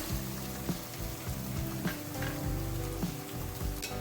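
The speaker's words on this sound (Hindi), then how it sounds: "प्याज को फ्राई करना है अच्छी तरह और उसके बाद लहसुन अदरक को।" Onions fry in a pan for restaurant-style chicken masala, a steady soft sizzle with a low tonal hum running beneath it and occasional faint taps, no voices.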